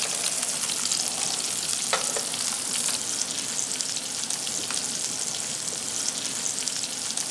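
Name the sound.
halibut frying in a pan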